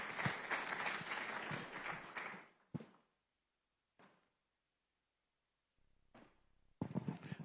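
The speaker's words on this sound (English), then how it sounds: "Another round of applause to Julius Rukundo." Audience clapping at the closing ceremony of Uganda Water & Environment Week, a dense burst of applause for about two seconds that fades out, followed by near silence broken by a few short thuds and a final renewed burst.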